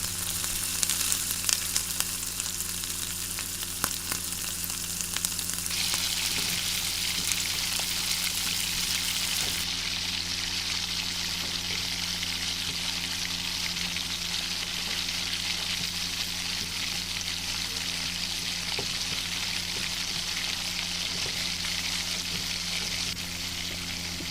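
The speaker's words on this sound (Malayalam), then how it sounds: "വെളിച്ചെണ്ണ നല്ലതായിട്ടൊന്ന് ചൂടായി കഴിയുമ്പോഴേക്കും നമ്മൾ നേരത്തെ അരിഞ്ഞു വെച്ചിരിക്കുന്ന സവാളയും 2 പച്ചമുളകും കൂടി കീറി അതിനകത്തോട്ട് ചേർക്കാം." Onion and two green chillies fry in hot coconut oil for a Kerala-style beef curry, giving a steady, even sizzle and crackle that runs unbroken throughout with a low background hum and no speech.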